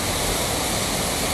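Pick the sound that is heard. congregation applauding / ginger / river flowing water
river flowing water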